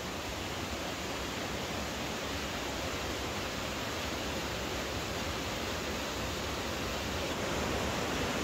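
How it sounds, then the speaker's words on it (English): A tall roadside waterfall in Vermont roars as a steady, dense broadband rush of falling water, loud and unbroken throughout with no voices. "This is like one of the tallest waterfalls I've ever seen."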